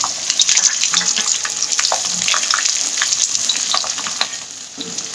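Onions fry in oil with chopped ginger and garlic, a loud crackling sizzle with stirring scrapes and spattering pops running the whole time.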